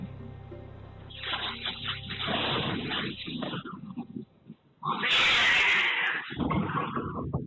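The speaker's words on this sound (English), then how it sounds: "That is an angry cat." An angry house cat hisses and yowls, harsh loud bursts that rise and break off, then one sharp, intense spit-like hiss near the end, with no talk over it.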